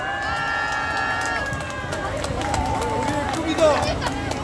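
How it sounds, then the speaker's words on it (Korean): Crowd applause and cheering at a youth rally of a Korean political party in Changwon: a sustained, loud wash of clapping and voices that keeps going throughout, with a swell near the end. "어느 때보다 더 큰 박수 부탁드립니다."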